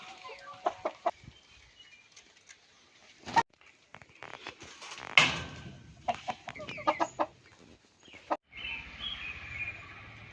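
Backyard chickens, large and small birds kept in separate pens, cluck and call in scattered close bursts with quiet gaps between, one sharper squawk standing out midway.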